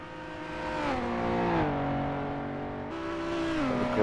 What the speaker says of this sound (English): So funny hearing both engines as the cars power out of the hairpin